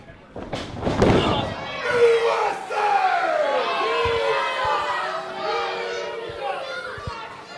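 Wrestling crowd at a live show shouting and roaring, with a scattered attempt at a USA chant that fails to catch on; loud, continuous mass of voices with some thumps and slams underneath.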